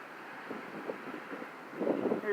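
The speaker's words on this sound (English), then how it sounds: "it's pretty windy here today" Wind blows outdoors across the microphone, making a steady low rumble and buffeting that gusts louder toward the end. A faint voice sits under the noise.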